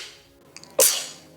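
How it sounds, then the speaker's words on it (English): A single sharp human sneeze bursts out after a short intake of breath, close and loud, then quickly fades. "Moment, I'm gonna sneeze."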